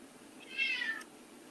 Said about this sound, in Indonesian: kucing saya juga ikut teriak